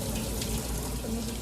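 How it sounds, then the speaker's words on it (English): Water from a kitchen tap runs and splashes while rice for sushi is washed by hand, a close, steady stream of sloshing water. "you're washing the rice around"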